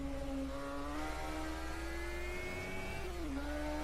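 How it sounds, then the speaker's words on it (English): A normally aspirated BMW race car engine in a 1980 DRM Division 2 race at Spa drones steadily at high revs, its pitch holding then dipping briefly near the end, loud and continuous from on board. "you can hear the engine in Simon's car. It's a normally aspirated BMW"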